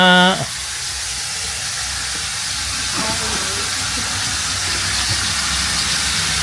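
Pinakbet sizzles steadily in a pan in a home kitchen in Japan, a loud, continuous broadband hiss and crackle that runs the whole time after a brief sung voice at the start.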